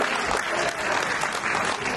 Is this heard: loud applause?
yes